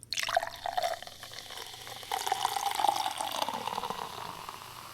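Topo Chico hard seltzer poured from a can into a glass: a close, steady stream of carbonated liquid with bright fizzing, in two pours with a short pause between, and no talking.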